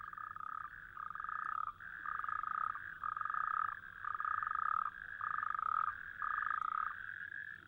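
Male toads croak in a steady repeating chorus to mark territory, each pulsed call lasting about a second with short gaps, moderately loud and continuous with no voices.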